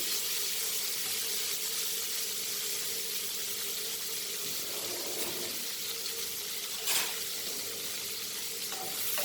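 Broccoli stir-frying in butter with cumin and pepper, a steady soft sizzle running throughout with faint stirring scrapes and one brief clatter near the end, no voices.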